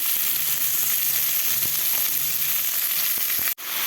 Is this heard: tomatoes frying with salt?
yes